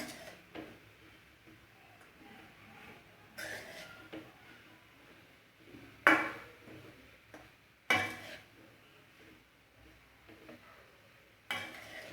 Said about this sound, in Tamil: எல்லாம் யூனிஃபார்மாக வர்ற மாதிரி நல்லா கிளறிக்கலாம்.